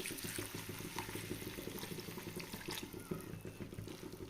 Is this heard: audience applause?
no